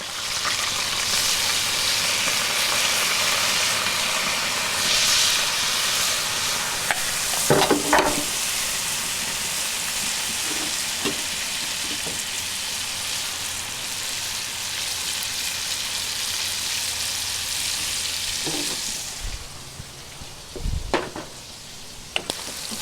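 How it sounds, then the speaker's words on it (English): Flour-coated burger meat seasoned with salt, pepper, paprika, garlic and onion powder fries in canola oil, giving a steady, close sizzle for the whole stretch, with a few brief clanks and bumps from a utensil near the end. "Put those in the oil. This is just regular canola oil."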